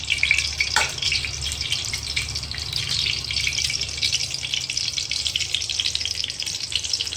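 Whole spices such as cardamom, cinnamon, cloves and star anise sizzle steadily in hot mustard oil in a pan, a close, continuous crackling fry with a small splash near the start and no talking.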